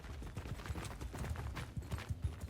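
Horse hooves clip-clop in a rapid, uneven gallop rhythm in the video game Mount & Blade II Bannerlord, fairly faint and close, with no talking.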